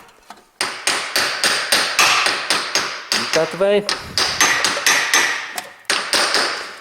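Steady run of sharp hammer taps on a Honda Civic drive shaft, pressing it into place, dozens of quick metallic strikes close by with a brief voice breaking in midway.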